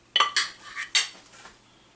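Metal utensils clink and scrape against the hot pot of a Ninja Foodi Deluxe cooker as a T-bone steak is lifted out, a few close, sharp metallic knocks in quick succession with no talk.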